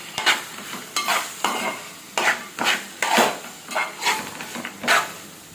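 Cumin seeds are mixed into a thick masala paste with a spoon, producing about nine loud, rhythmic scraping strokes, close and clear, with a faint sizzle underneath.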